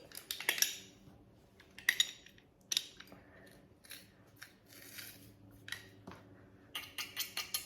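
A handheld garlic press squeezes a couple of garlic cloves in a home kitchen, giving sharp metallic clicks and clinks in scattered bursts with quiet stretches between.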